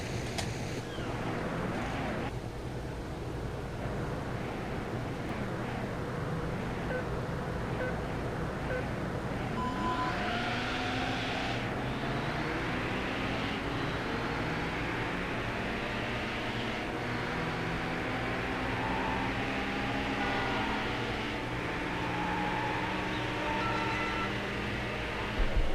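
Race cars in Need for Speed Hot Pursuit 2 roar steadily throughout, their engines rising in pitch through gear changes from around the midpoint, with a constant wind-like rush beneath.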